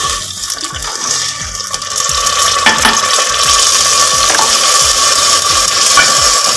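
A little water poured into hot oil with jaggery for a bread churma syrup, a loud rushing hiss and bubbling sizzle with rhythmic stirring scrapes, no talk.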